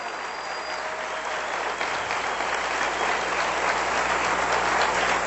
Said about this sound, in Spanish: Denle un aplauso bien fuerte al Rey bendito.